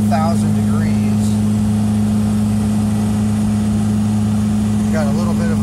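A TDI diesel-swapped Toyota engine drones steadily while pulling uphill in fourth gear above 3000 RPM, a constant loud in-cab hum with someone talking over it.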